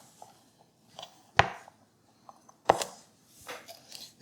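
A knife chops through fresh green beans on a cutting board, trimming off the ends in a few sharp, separate cuts spaced irregularly, close and crisp in a quiet kitchen.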